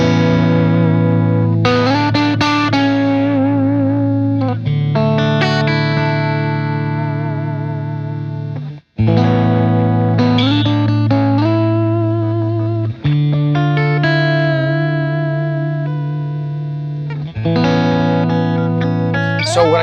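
An electric guitar plays through the clean channel of an Ampliphonix amp set with a touch of reverb, sounding chords and melodic lines that ring out and sustain, loud and close, with no talking over the playing.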